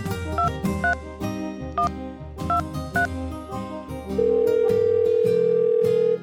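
A telephone dial tone hums steadily as a call is placed, coming after a run of rhythmic ringing and keypad-like beeps and holding loud and unbroken for the final two seconds.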